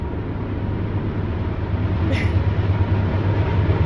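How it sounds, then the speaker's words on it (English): Steady low rumble of a train rolling past, continuous and fairly loud, with a brief higher whine partway through. "I live near a train, so you can hear a train going by."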